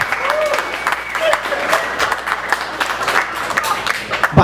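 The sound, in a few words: audience applauding at a comedy show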